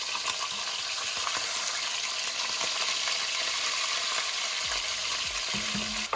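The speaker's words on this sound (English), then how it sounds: "So next, we got the beef in. We're gonna sear that a little bit." Beef sears in a hot pan for a Guinness stew, giving a steady, loud broadband sizzle with faint crackles and a few low clunks from utensils near the end.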